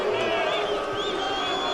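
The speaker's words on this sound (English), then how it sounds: "Why are they booing him?" A large crowd at a UFC press conference in Las Vegas booing, a steady dense roar of voices filling the room, continuous and loud throughout.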